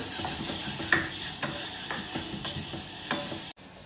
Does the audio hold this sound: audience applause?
no